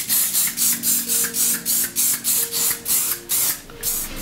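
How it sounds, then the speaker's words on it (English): Rapid, rhythmic hissing bursts of a hair shine spray, about a dozen quick pumps in a row, close and fairly loud. "I'm also using the Prism Shine Invisible Shine Spray."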